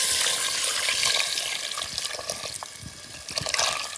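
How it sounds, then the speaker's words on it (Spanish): Water poured into a pot of simmering hen for rice juanes, a steady splashing, trickling flow close by that eases slightly before a brief louder gush near the end, with no talking. "Ahora vamos a echar un poco más de agua."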